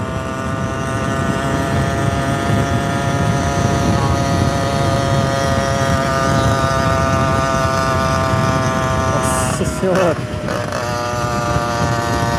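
A small motorcycle with a 66 cc engine screams at full throttle, a loud, steady, buzzing high-revving drone from close by that holds without a break, with a brief dip and clatter near the end.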